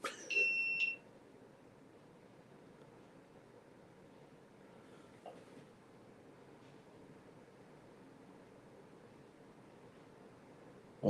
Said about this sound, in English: Did y'all hear the beep?